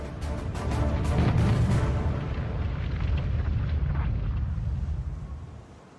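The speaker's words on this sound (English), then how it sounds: "A single torpedo strikes the rear of the ship." A torpedo explodes against the stern of the battleship Bismarck: a loud, deep rumbling blast swells within the first second and holds as a heavy, roaring boom for several seconds before fading.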